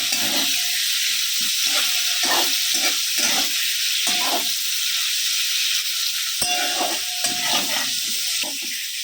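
Hot oil sizzles and crackles as cauliflower pieces fry in a pan, with bursts of spattering and occasional stirring clatter, close by and steady.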